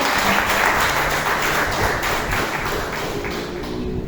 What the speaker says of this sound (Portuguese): Aplauda ela mais uma vez